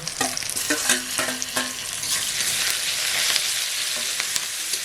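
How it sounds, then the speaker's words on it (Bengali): Spice paste of garlic, ginger and green chili stir-fried with chopped tomato and onion gives a close, busy sizzle. Repeated scraping strokes of a spatula against the pan sound in the first half. "এই মশলাগুলো ভালো করে কষে দেবো"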